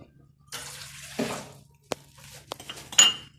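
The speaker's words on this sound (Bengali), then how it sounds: "জল নিয়ে নিলাম এখান থেকে," Water runs from a kitchen tap in short bursts, with the clink and knock of metal pots and utensils in between, close and moderately loud in a quiet home kitchen.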